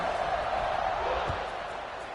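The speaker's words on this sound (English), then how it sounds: "this crowd is buzzing after that last score" A football stadium crowd murmurs and buzzes after a score in a game against Clemson, a dense, steady roar of many voices with a single thud partway through.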